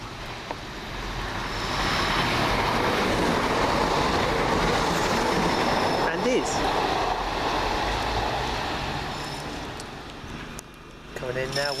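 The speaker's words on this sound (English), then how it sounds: "Coming in now will be our train" A train rolls into a station on a Great Western line with a broad, steady rumble and rattle that swells and then eases off. Faint wheel squeal comes through near the end as it slows, and people talk in the background.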